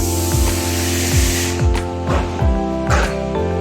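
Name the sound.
uPVC window frame welding machine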